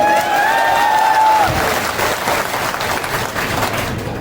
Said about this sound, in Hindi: चलो राहोगढ़ तक ताली जानी चाहिए